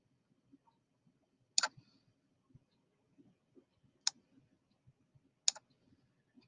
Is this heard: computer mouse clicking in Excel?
yes